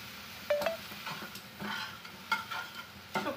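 A spoon stirs a spiced dhokla mixture with lemon juice and sugar in a pan. It makes close, irregular scraping and clinking strokes over a faint sizzle, with no talking.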